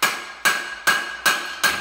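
Five sharp, evenly spaced hammer blows strike the upturned metal base of an HAG Capisco office chair to knock out its gas spring, each impact loud, close and ringing briefly.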